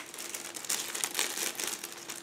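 A separate plastic bag holding a transparent sprue from an Eduard 1/48 Folgore model kit is opened, giving soft, continuous crinkling and rustling at close range, with no talk.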